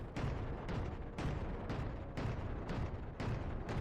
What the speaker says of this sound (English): Twin 300mm cannons firing like that is so nice.